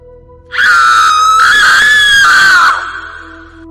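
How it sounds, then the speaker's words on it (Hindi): A woman lets out one long, loud, piercing angry scream lasting about two seconds, then it cuts off into quiet. "डायन गुस्से में आ जाती है और चीखने लगती है"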